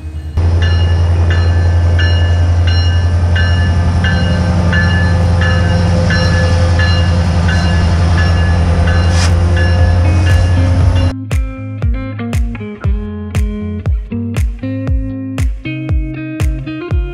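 An Alaska Railroad train in Talkeetna, Alaska, rumbles past loud and close with a steady low drone, then rhythmic clickety-clack of wheels over rail joints takes over as the cars roll by.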